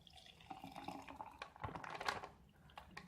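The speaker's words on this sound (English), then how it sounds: "Pour this out and see how it looks inside the glass." Super hot sauce mixture pours out of a sealed MRE pouch into a glass, a soft continuous liquid trickle with small splashes, fairly quiet and heard alone without talk.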